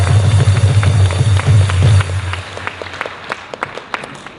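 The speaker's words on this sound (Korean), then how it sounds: "박수하겠습니다." An audience at a political rally in Korea bursts into dense, loud clapping that stays strong for about two seconds, then thins to scattered claps that fade out.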